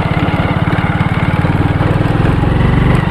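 A motorbike engine running on turpentine oil idles smoothly and steadily up close, a loud rhythmic chugging putter with no misfires, heard alone.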